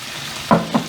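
A sauce is poured into a hot pan over medium heat holding meat and cabbage, giving a brief sizzle and a second smaller hiss under a steady frying background.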